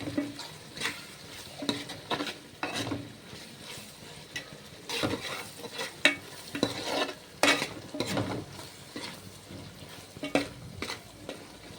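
Raw prawns with chili powder are stirred with a ladle in a pan for a gongura dish, giving repeated close scraping and clattering strokes over a low sizzle, in uneven bursts.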